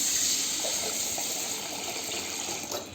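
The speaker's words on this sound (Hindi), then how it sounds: "तो इधर मैं जग से 1 जग इसमें पानी डाल दी हूँ।" Water poured from a jug onto urad dal set to soak gives a steady, close gushing splash that eases slightly toward the end.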